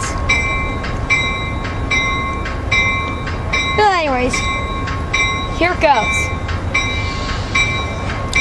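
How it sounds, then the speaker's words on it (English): Amtrak 583 train led by Cascades locomotive 930, a steady rumbling pass with bright sustained tones, two short swooping squeals midway, and a voice speaking briefly over it. "Amtrak 930, the Cascades locomotive is leading this train right out."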